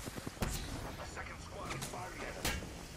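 Gunfire striking a player in an Apex Legends match, heard as a few sharp cracks and impacts, one near the start and another late, over steady game ambience and voice chat.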